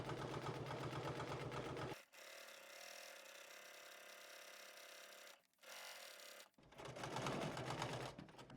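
Sewing machine stitching down rows of a garment lining: rapid rhythmic mechanical chattering in loud bursts at the start and end, with a quieter steady whir between them broken by short pauses.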